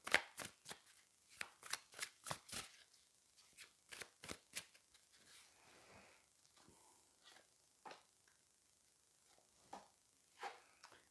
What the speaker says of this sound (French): Je vais venir prendre 2 cartes pour ici.